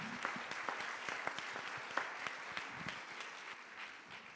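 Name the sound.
audience applause at a conference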